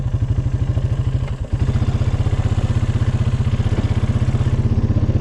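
Honda Foreman 500 4x4 ATV engine chugs at idle close by, a rapid, even thumping pulse with one brief stumble near the start before settling back into its rhythm.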